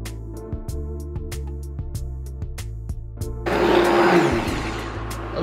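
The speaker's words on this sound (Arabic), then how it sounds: "عندي خلاط الكهربائي. في هذه الأثناء نضيفوا الحليب، حليب الكوكنات أو حليب اللوز،" An electric blender whirs with a steady high motor whine while mixing coconut or almond milk, then surges into a louder, rougher churning roar partway through as the mixture is blended.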